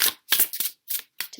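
Tarot cards are shuffled by hand in short, crisp riffling bursts, five quick flurries separated by brief pauses, close and clear with no talking.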